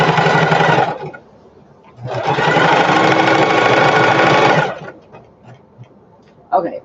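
A sewing machine stitches fabric for a storage bin in two loud, close bursts, one brief and one longer, with quiet pauses between where a voice talks.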